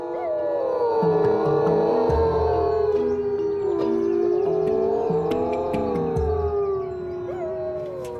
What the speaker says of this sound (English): When the siren sounds, sometimes the wolves start howling.